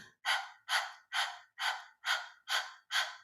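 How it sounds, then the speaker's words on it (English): Eight quick, forceful breaths through an open throat, evenly spaced like panting, each a sharp huffing exhale, close and alone. "We access this by pretend like you're panting like a little puppy dog."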